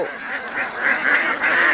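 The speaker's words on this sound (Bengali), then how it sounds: "কচুরি খাচ্ছে আমি দেখতে পাচ্ছি হাঁসগুলো" Farm ducks feeding on water hyacinth give a run of repeated nasal, honking quacks, moderately loud and close, with no talking.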